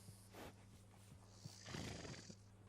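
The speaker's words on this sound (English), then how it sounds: "We got lots of horses." A horse in Red Dead Redemption 2 gives a short whinny among quiet hoof clops, close and fairly faint, with no talk.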